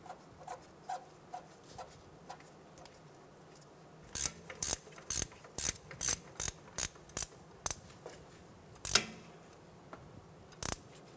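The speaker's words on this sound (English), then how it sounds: "Tighten down the top mount nut." Ratchet wrench tightening the top nut of a front transmission mount on a 2014-2019 Toyota Highlander: faint clicks at first, then a run of sharp, close ratcheting clicks in quick strokes, with a couple more after a pause.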